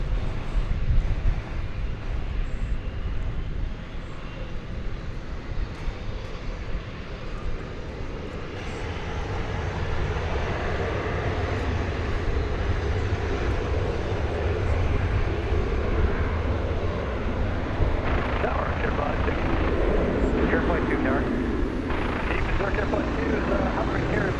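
A Boeing 777 jet engine roars steadily on takeoff at night at DFW Airport, a broad, rushing rumble that builds slightly over time, buffeted by wind noise, with no talk.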